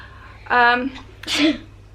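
A short voiced sound comes first, then one close, sharp sneeze bursts out, with quiet between.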